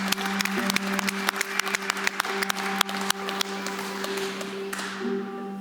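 An audience at a talk gives a round of applause: a few separate, sharp claps swell into steady mixed clapping that carries on for several seconds and then fades, with a low hum underneath.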